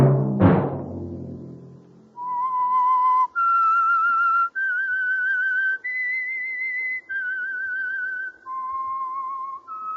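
A lone whistler performs the theme signal of the Signal Oil radio program The Whistler, a clear, sustained melody of separate held notes following a short opening thud, with no talk over it.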